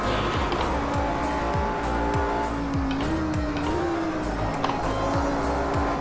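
An Audi R8 driven hard on a track, its engine droning loud and steady with a rising pitch and tires squealing through corners, close and continuous.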